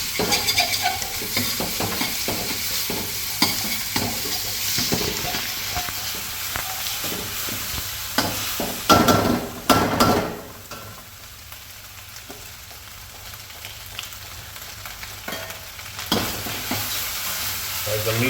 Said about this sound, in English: Now I'll add some cooking wine. With cooking wine, the meat will be juicy.